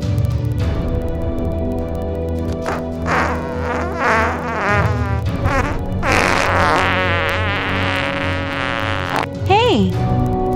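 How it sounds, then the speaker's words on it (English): Cartoon fart sound effects in a GoAnimate animated episode set in a van: loud, close, buzzy sputtering blasts repeat through the clip, with a quick rising squeal near the end. "How dare you fart in the van?"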